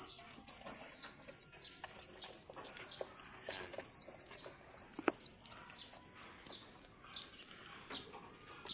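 Pigeons kept in a home loft, with many harmonic calls repeating through the whole stretch and soft wing flaps in between, one sharp flap near the middle, all close by and steady with no talking.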